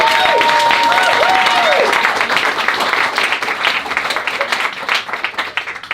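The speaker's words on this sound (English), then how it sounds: "Could you give her a round of applause, please?" Sustained applause from the audience at an author event, loud and dense from the start, with a voice briefly cutting across the opening seconds before the clapping thins slightly toward the end.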